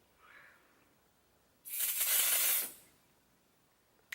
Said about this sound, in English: today I'm going to be using the Dior Air Flash spray foundation